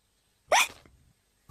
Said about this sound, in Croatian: molim te, prestani štucati